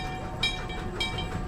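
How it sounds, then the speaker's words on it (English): A train rolls past near Tokyo Disneyland early in the morning, giving a steady broadband rumble with metallic clatter that swells twice as cars go by, moderately loud with no talking. "the train is going by"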